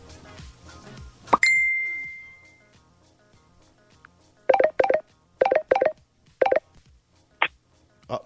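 Telephone DTMF dialing tones while transferring a call: a single bright ding, then a series of short keypad beeps in quick pairs and singles, close and clear with no talk.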